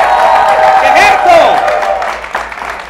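A studio audience at a Venezuelan talk show applauds and cheers for actress Rosalinda Serfaty, loud and close. A dense wash of clapping runs under excited voices and a whoop, then thins out toward the end.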